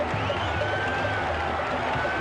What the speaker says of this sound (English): We've got a small but enthusiastic crowd here